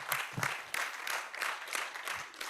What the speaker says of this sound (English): Please clap for those guys